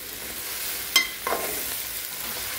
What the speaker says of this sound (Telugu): చూడండి, జిగురు లేకుండా ఎంత బాగా ఫ్రై అవుతుందో.